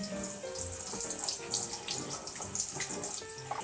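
Tap water runs steadily into a bathroom washbasin while drain parts are rinsed under the stream, a continuous close splashing and gurgling with no talk.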